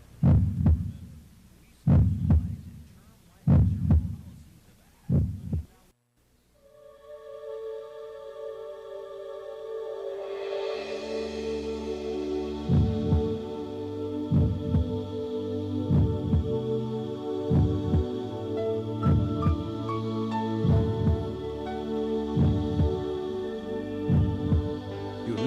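A heartbeat sound effect opens a radio talk show intro: four loud, isolated double thumps, then a musical bed with a hum enters and a steady throbbing pulse continues beneath it.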